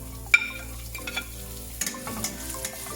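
Spring onions for beef chilli are sautéed in a pan, with a bright sizzle broken by several sharp scrapes and knocks of a spoon stirring, close and clear without any voices.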